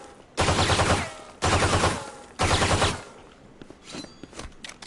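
Frenzy automatic pistol firing in a video game: three dense, loud bursts of rapid gunfire, each about half a second to a second long, followed by scattered fainter clicks and game sounds.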